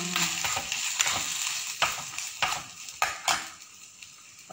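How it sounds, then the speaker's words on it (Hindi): Boiled potatoes frying in hot oil in a home kitchen pan, stirred with a utensil: a steady sizzle with repeated scraping strokes and clinks against the pan, close and fairly loud, with no talking. "बस आलू को हम लोगों को हल्का सा बस भूनना है ताकि इसका कच्चा पन चला जाए।"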